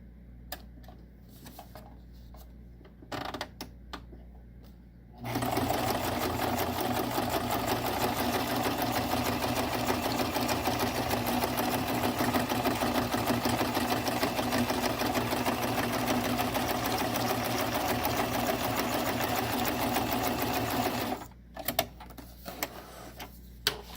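A Singer Tradition sewing machine stitching at its shortest stitch length (1) while sewing for wig making: after a few quiet handling clicks, a loud, steady motor whir with rapid needle chatter runs for about sixteen seconds and then stops.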